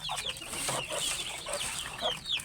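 A native chicken clucking on a farm, a run of close, soft clucks and short chirping notes in quick irregular succession, with no voices.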